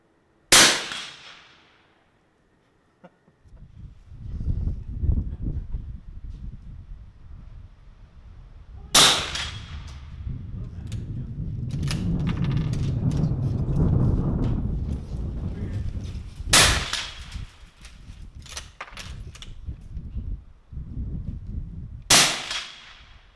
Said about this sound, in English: it also is a lot of fun to hear that steel ring